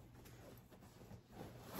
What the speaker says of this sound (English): Zipper runs very well.